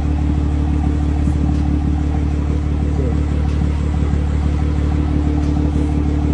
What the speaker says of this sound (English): New downpipe on my car, it sounds so good. Yo, rev it, rev it.